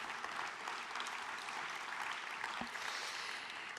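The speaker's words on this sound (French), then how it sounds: "Vous pouvez applaudir, n'hésitez pas" A large conference audience applauds during a closing speech at a housing congress, producing a steady, dense roar of clapping that fills the hall for a few seconds without pause.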